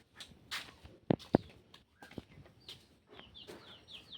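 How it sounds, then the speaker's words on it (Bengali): Chickens cluck faintly at a distance outdoors, with scattered chirps and a few soft footstep-like thumps in otherwise quiet surroundings and no talk. "মুরগিগুলো দেখ।"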